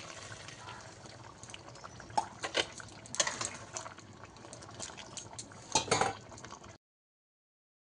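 Fried pointed gourd pieces tipped into a bubbling spice gravy in a pan, with clinks and scrapes of a spoon against metal over a low simmering bubble, a few louder knocks, then silence.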